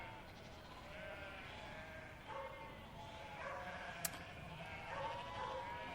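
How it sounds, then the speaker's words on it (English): Sheep crowding around a roadside diner in Pasadena, bleating in a wavering chorus of overlapping calls over a steady outdoor background, with no talk in between. "Sheep."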